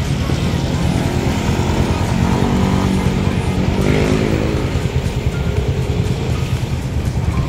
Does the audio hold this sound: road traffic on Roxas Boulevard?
yes